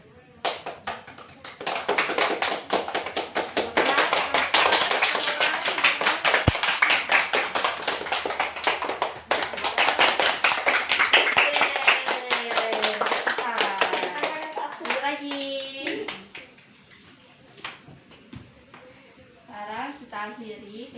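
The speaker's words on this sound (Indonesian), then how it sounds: "Tapi kalau semakin tinggi, tepuk tangannya lebih keras." A class of children claps in dense, rapid rounds that swell louder and then fade softer, with a brief pause midway; a voice speaks in the quieter stretches near the end.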